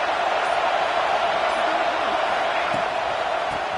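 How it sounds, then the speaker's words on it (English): A football stadium crowd roars on third down at Saban Field during an Alabama versus Auburn game, a dense, steady wall of noise held at constant loudness throughout. "The Tide crowd rolling noise down onto Saban Field on third down"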